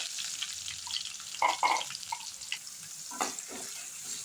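Chopped onions and curry leaves frying in oil in a pan, a faint crackling sizzle with a few brief louder spits and stirring scrapes, quiet and close.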